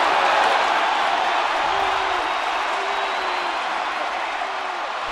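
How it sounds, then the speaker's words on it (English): Steady, loud roar of a stadium crowd at a Seattle at Toronto baseball game, a continuous wash of massed voices with faint cheers rising through it. "Now you can hear the roar of a crowd"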